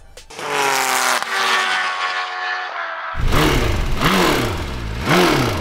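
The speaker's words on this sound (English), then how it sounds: "That's an M1000RR stock being raced against a BMW M4." A stock BMW M1000RR superbike races a BMW M4 car, engines revving hard and loud with rising pitch, a shift, then a wavering, pulsing roar as the vehicles pass close by.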